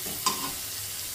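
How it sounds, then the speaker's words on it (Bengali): A splash of water from a rinsed onion plate hits a hot pan while making doi katla, giving a brief sharp hiss that fades to a soft, steady sizzle. "এখন আমি যে পেঁয়াজের প্লেটটা ধুয়ে অল্প সামান্য একটু জল দিয়ে দেব"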